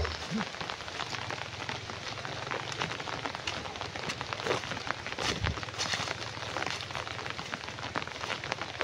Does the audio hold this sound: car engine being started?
no